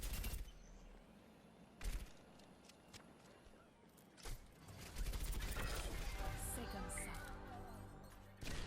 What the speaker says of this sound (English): Hit fire, and all you do is shoot a machine gun